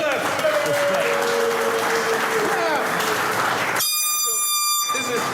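A studio crowd breaks into loud, continuous applause and cheering for the guest Clap, with a blaring air horn bursting in near the end, and voices shouting over the noise.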